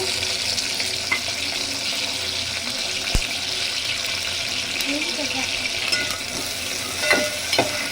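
Green chillies, curry leaves, sliced onions, cinnamon and cloves frying in oil for paya curry, a steady close sizzle with occasional stirring clinks and scrapes, no talking heard.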